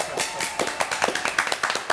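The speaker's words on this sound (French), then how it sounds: "Merci de m'applaudir, public adoré." A studio audience at a French comedy television show claps for about two seconds, a modest scattering of fairly close individual claps rather than a dense roar.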